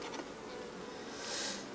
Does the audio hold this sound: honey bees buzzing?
yes